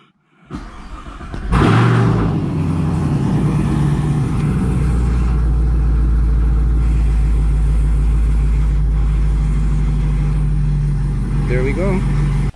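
A Chevrolet Camaro SS fitted with an AFR gauge starts up close by and settles into a loud, steady, rumbling idle that holds for about ten seconds, with brief talking near the end.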